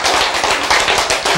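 An audience claps close by in loud, fast bursts that rise and dip in a rough rhythm, with no talking over it.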